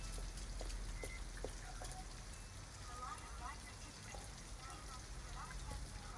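Steady rain falls in the video game Detroit: Become Human, a soft continuous patter with scattered droplet ticks, heard alone at low level throughout.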